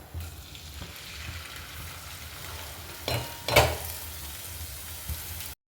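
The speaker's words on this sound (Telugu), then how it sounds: "ఇప్పుడు ఈ మనం కట్ చేసుకున్న ఆనియన్స్ని వేసేసుకుందాం" Chopped onions hit hot oil in a heated pot over high flame, giving a steady close sizzle with a louder burst of crackle and a few utensil scrapes, no voices.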